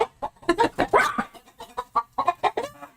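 Chickens cluck close by in a quick, irregular run of short calls, loud and steady across the whole stretch, with no talking over them.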